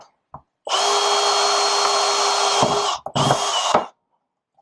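A power drill whirs steadily at close range for about two seconds, stops briefly, then runs again for a shorter burst before cutting off.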